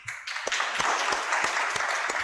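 An audience gives steady, moderately loud applause with a few sharp individual claps standing out, sustained for a couple of seconds.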